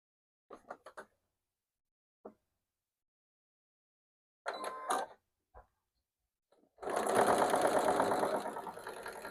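A sewing machine runs in a sustained close burst of rapid rhythmic stitching near the end, after several scattered clicks and handling noises with silence between them.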